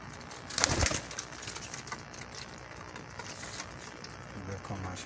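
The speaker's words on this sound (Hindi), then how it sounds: "जालदार कबूतर" Jaldar pigeons coo softly in a loft alongside other pigeon pairs, low murmuring calls with a brief flutter near the start and someone talking over them.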